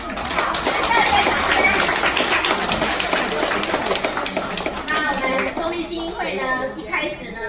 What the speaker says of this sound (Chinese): 好，来热烈掌声